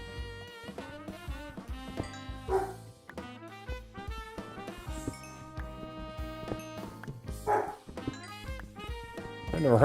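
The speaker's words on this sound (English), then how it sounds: "I never heard him bark like that." A dog in the Minecraft video game barks several times over busy in-game music, the yips short and distinct against the melodic background.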